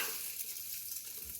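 Sausage sizzling in hot oil inside an Instant Pot, a faint, steady hiss heard briefly with no voices.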